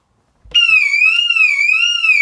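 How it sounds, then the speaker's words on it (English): An HKC Quantum wireless home alarm goes off after a window is opened: a loud, continuous, warbling electronic siren begins abruptly after a half-second of silence and holds steady, close and alone. "if anyone opens the window, the alarm's going off"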